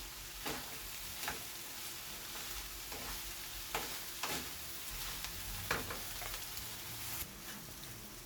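Shrimp fried rice being stirred slowly in a pan with red chili powder, a low continuous sizzle broken by several soft scraping and tapping stirs, with no voices.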